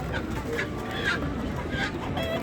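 Birds in cages at an open-air bird market in Ganja, with clucking, fowl-like calls and a few short chirps scattered over steady crowd din and low background voices.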